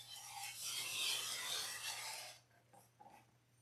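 A rotary cutter runs along a quilting ruler to trim a rough fabric edge: one close, steady rasping cut lasting about two seconds, followed by a few faint taps and shuffles.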